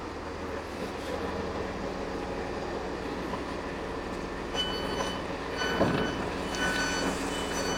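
A Northern passenger train pulls into a railway station platform with a low continuous rumble, then metallic wheel squeals and rising clatter as it nears; the sound is moderately loud, with no speech.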